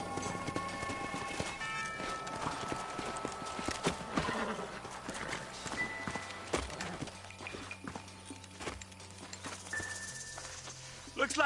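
Horses' hooves clip-clop in a steady trot alongside jingling tack and an occasional whinny, with Red Dead Redemption game ambience and brief low voices.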